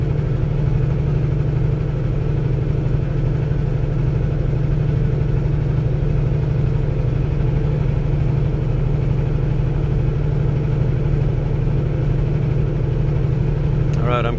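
A Cummins diesel semi-truck engine drones steadily while cruising on the freeway in high wind, a constant low rumble filling the whole stretch with a brief higher noise at the very end.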